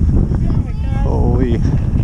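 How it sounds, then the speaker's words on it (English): Strong wind buffets the microphone with a low, rumbling roar on a frozen lake as a person speaks over it. "it's windy."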